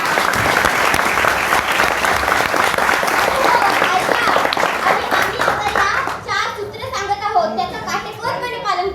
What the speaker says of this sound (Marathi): आमच्या नाटकासाठी एकदा जोरदार टाळ्या वाजवा